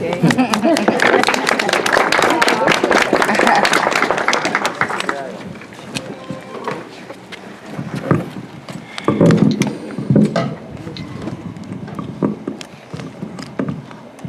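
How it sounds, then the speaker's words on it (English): Audience at a grand opening ceremony for a seniors' affordable housing building in Mattawa, bursting into loud sustained applause for several seconds, then fading into scattered claps and quieter voices. "Please applause."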